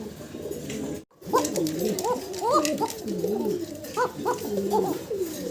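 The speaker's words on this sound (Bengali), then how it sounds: "ককার ডাক শুনলেন আপনারা" Pigeons cooing close by, several soft rolling coos overlapping in a steady series after a brief cut at the start.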